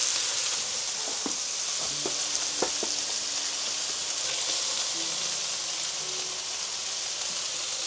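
Rice goes into a hot oiled pan where a steak was just seared, and a loud, steady sizzle fills the whole stretch with a few faint clinks and scrapes of stirring.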